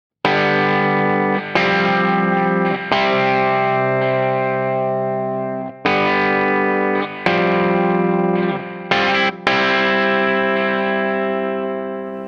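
Clean electric guitar chords from a Line 6 Helix amp modeler, struck one at a time and left to ring out, each fading slowly before the next strum.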